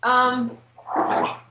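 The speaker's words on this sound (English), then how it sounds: "He's really rolling around on the ground, scratching his back and making weird grunts." A dog rolling on its back on the ground gives a strained, voiced grunt followed by a breathy, rasping snort, two close sounds in quick succession near the microphone.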